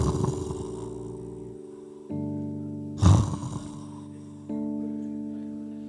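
A preacher imitates Jesus snoring, giving several drawn-out, harmonic snore-like vocal sounds with pauses between them. A stronger breathy snort comes in the middle, and no one speaks.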